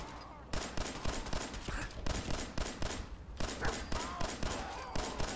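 Rapid automatic gunfire in the Fallout 4 video game, a dense, loud stream of shots in long bursts with a couple of brief gaps.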